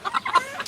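Chickens in a makeshift cage cluck in short, close bursts, several soft calls overlapping across less than a second while being carried.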